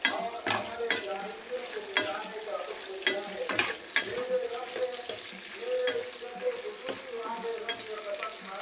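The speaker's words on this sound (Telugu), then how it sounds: "అందులోనే ఉల్లిపాయలు, పచ్చిమిరపకాయలు వేసేసుకోవాలి. దోరగా ఆగనివ్వాలండి." Onions and green chillies fry in a pan with a steady sizzle, punctuated by repeated scraping and clattering stirs of a spatula against the metal, close and fairly loud, with a little speech in the background.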